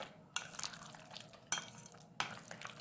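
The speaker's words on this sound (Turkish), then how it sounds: "Ceviz attım. Karıştırıyorum iyice." A spoon scrapes and clinks in a small bowl as walnuts are stirred into mashed avocado, three sharp taps against the bowl over soft mixing sounds, quiet and close.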